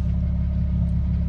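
A Mercedes W210 stuck in first gear while driving, with a loud, steady low engine drone and road rumble from inside the car, with no talk.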